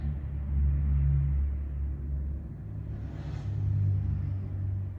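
Steady low rumble of cars passing on a nearby road, a continuous drone that swells twice as vehicles go by, with no talking over it.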